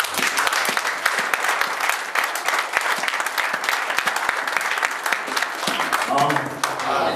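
A church congregation applauds and cheers loudly, sustained dense clapping with scattered shouts filling the room from start to finish, fading slightly at the very end.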